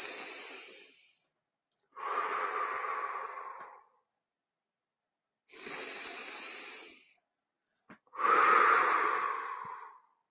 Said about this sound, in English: So let's take 3 deep breaths together.